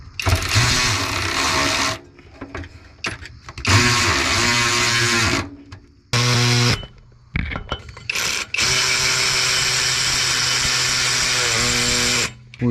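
Loud, close power tool tightening driveshaft bolts, running in several long whirring bursts with brief pauses and short trigger blips between them, ending in one sustained run.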